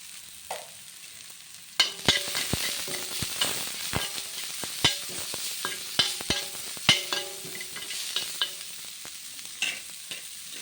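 Onions sautéing and being stirred in a pan, with steady frying sizzle broken by repeated sharp spatula knocks and scrapes against the pan, close and moderately loud, with no voices.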